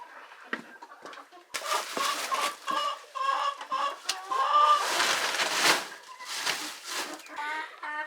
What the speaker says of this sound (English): So anyway, I forgot we were gonna donate some chickens to Joe as a little giftie.